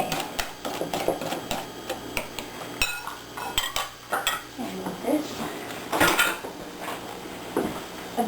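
A pineapple bread pudding mixture is whisked in a bowl, giving rapid, uneven metal-on-bowl clinks and scrapes in bursts, fairly close and loud, with a voice speaking intermittently between them.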